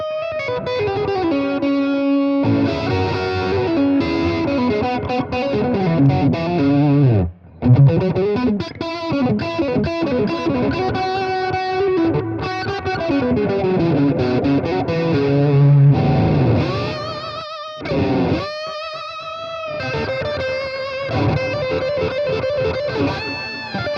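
Electric guitar shredding fast runs through an analog delay pedal set subtly in the background, distorted lead lines with soft trailing repeats, loud and up front with brief pauses between phrases, no voices.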